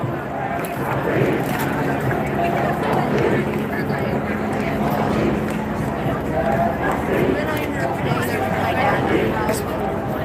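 A dense crowd fills a Philadelphia street protest with a steady, loud murmur of voices and footsteps, close and continuous, with occasional shouts rising from the babble.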